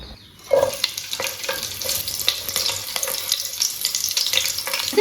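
Green chillies sizzle and crackle in hot oil in a pan for chicken curry, with a steady frying hiss and scattered pops beginning after a short quiet moment.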